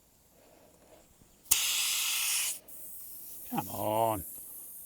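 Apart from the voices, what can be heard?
air hissing out of a tyre as it is deflated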